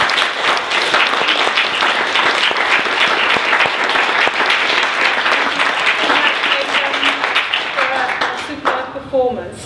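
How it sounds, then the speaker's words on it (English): Sustained audience applause at a community kindness event, dense steady clapping filling the room for about nine seconds before thinning out, with voices faintly audible near the end. "give them another round of applause"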